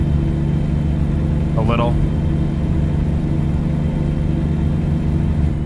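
A Volvo truck's engine in American Truck Simulator, a loud, steady low-pitched drone that holds constant throughout, with a brief spoken word partway through.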